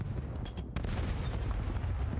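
A grenade combo blast with a stray gunshot in a Call of Duty League match: a sharp burst of loud booming fire, then dense rumbling gunfire and explosion noise carrying on steadily.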